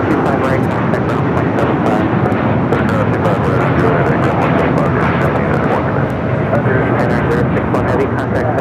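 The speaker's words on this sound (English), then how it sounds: "This is Japan Airlines Flight 61 taking off to Tokyo Narita on the 787-9 Dreamliner" A Japan Airlines Boeing 787-9 Dreamliner takes off from LAX, giving a loud, steady, broadband jet roar that holds throughout with no break, while a voice talks over it.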